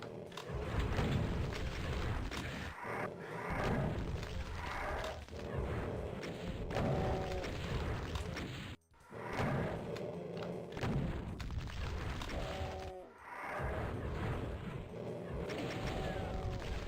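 Rocket explosions in the Doom map Cosmogenesis MAP01 come as repeated loud booms and thuds amid dense combat noise, with the action running almost continuously and only a couple of brief pauses.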